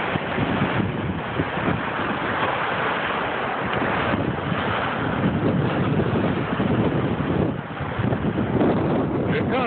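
Lake waves crash and surge along a lakefront, a loud continuous roar of churning water heavily buffeted by wind noise, with brief voices of people nearby.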